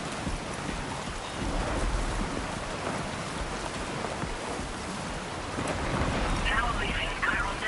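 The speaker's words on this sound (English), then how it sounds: "Right into the storm." Rainstorm with distant thunder in the video game Death Stranding 2, a steady wash of rain and wind rumble with swelling gusts throughout, under occasional quiet talk.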